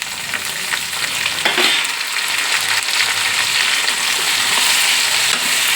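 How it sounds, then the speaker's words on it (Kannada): Long eggplant slices frying in hot oil for a Karnataka-style vangi bath, a steady close hiss and crackle with occasional stirring clatter throughout, no voices. "ಎಣ್ಣೆಲಿ ಫ್ರೈ ಮಾಡ್ಕೊಳ್ಳೋಣ."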